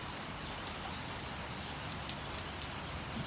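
Steady rain falls outdoors with a dense, even patter and occasional louder drips on surfaces, continuous throughout with no voices.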